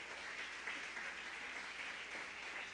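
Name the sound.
congregation clapping hands in church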